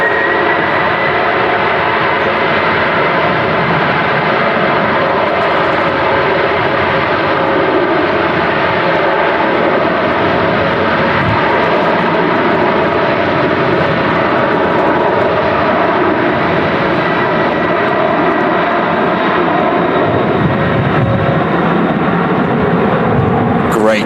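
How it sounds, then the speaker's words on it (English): Boeing 767 with CF6 engines roaring loudly and steadily as it lands on runway 23L at Manchester Airport in strong storm crosswinds, a continuous close engine roar with wind noise underneath. "CF6 engines roaring down 2-3 left at Manchester."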